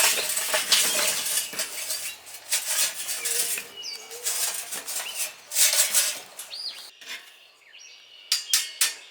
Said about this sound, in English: take the coals and dump them in